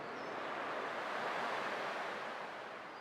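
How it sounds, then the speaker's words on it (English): Ocean waves in the video game Honkai: Star Rail wash in a broad, continuous roar of surf that swells gently and eases off, steady and unbroken with no voices. "I can still clearly hear the sound of the waves."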